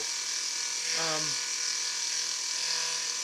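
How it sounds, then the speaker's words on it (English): A milling machine cuts out a section of metal for a sprocket, a steady bright whirring grind running continuously and close, with a brief voice sound near the start. "milling this section out here"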